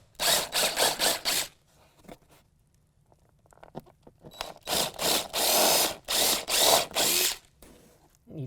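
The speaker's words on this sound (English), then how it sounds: "I'm going to take a drill bit." A power drill bores holes through a plastic bed liner in the cargo bed of a 2017 Ford F-350, two loud bursts of whirring with a quiet gap between, the second burst longer with several pulses.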